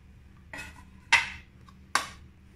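A rice noodle salad with vegetables, known as funchoza, being mixed together with rice in a bowl: three separate clinks and scrapes of utensil against dish, spaced about a second apart, close and fairly clear.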